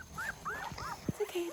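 Newborn street-dog puppies in Thailand, from a litter of seventeen, make several thin, rising whimpers and squeaks up close, with soft handling noises around them.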